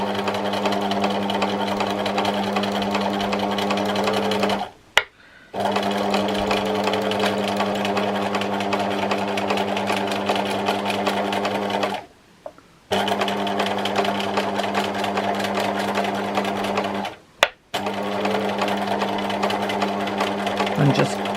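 A sewing machine does free-motion embroidery on a memorial quilt, running in long loud, steady buzzing stretches close by, with three short stops between runs.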